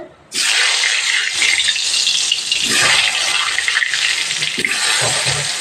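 Potato pieces hit hot mustard oil and a loud, bright sizzle bursts in abruptly, then hisses steadily and evenly close up without a break.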